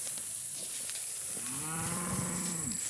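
Cull cows on a cattle farm give one long, loud, drawn-out moo that rises and falls, heard up close over a steady background hiss.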